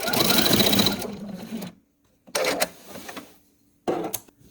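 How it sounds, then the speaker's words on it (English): Sewing machine stitching quilt fabric scraps in three bursts: a sustained whirring run, then two shorter runs after pauses, close and clear with no talking. "I'm just going to sew down 1 inch or so"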